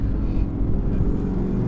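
An Audi R8 V10 performance with a 620 PS naturally aspirated engine, droning as a loud, steady low rumble throughout with no speech over it.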